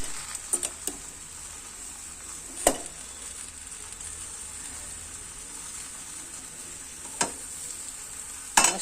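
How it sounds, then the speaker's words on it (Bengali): Jujubes cooking in a pan as cane jaggery is added, giving a steady soft sizzle with a few sharp stirring scrapes and clinks. "আমি এটার মধ্যে একটু গুড় দিয়ে দিলাম, আমি আখের গুড় দিয়েছি।"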